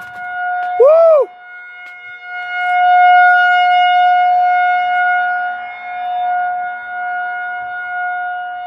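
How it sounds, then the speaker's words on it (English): A Federal Signal 2001 civil defense siren sounds during a test near a grandmother's house, a sustained loud wail holding its pitch with slow rises and falls, preceded by a brief sharp chirp-like sweep; a voice is heard briefly. "I'm sorry you have to live near that siren."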